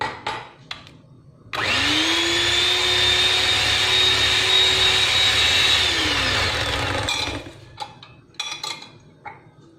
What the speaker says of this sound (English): Next I will add the milk and yogurt mix half first, whisk it again.